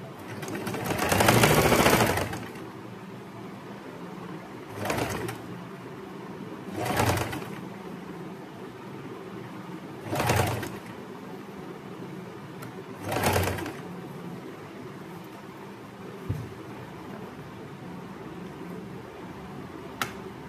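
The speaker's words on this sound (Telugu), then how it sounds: "సింపుల్గా కుట్టుకుంటూ వెళ్ళిపోండి" A sewing machine stitches a princess cut kurti in several short runs of a few seconds each, separated by pauses, over a quiet room background with no talk.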